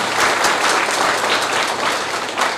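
Loud, sustained applause from an audience at a grand Holi celebration dedicated to Mithila culture, a dense wash of clapping filling the whole stretch without a break.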